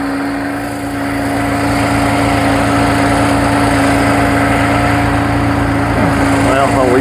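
A Mercedes 300E engine with a fuel problem idles steadily and smoothly with a constant low hum and rhythmic throb, loud and close, without talk.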